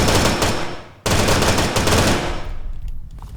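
Dense, loud automatic gunfire in a military shooter video game, a rapid continuous burst that cuts off briefly and then resumes before fading into scattered distant shots.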